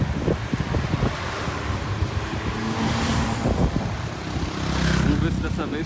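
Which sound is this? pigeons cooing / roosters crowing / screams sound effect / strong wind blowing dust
strong wind blowing dust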